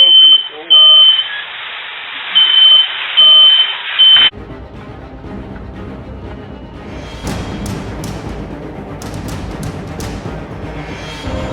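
A smoke alarm in a workshop garage sounds a loud, repeated high-pitched chirp in short bursts, then a harsh, continuous roar of metal cutting on a steel saw blade takes over.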